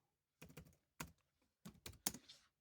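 A handful of quick key presses clatter on a computer keyboard in short bursts of two or three clicks separated by brief pauses, close and fairly quiet with no talking.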